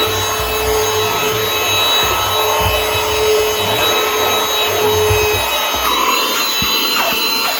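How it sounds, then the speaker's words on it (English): A small handheld vacuum cleaner runs steadily while cleaning out desk drawers, a constant close whirring hum with rubbing and scraping as the nozzle moves over the wooden drawer surfaces. "we're going to give them a quick little vacuum out"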